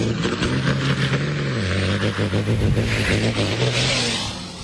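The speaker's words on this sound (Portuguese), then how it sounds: "os pilotos começam a aquecer os motores" Truck racing engines of about 900 horsepower warming up, a loud continuous roar with a steady low drone that dips in pitch and rises again, close by and sustained throughout.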